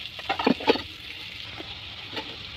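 Fried potatoes and radish tipped into a pan with turmeric and coriander powder, a few soft clattering drops and stirs followed by a quiet, steady sizzle.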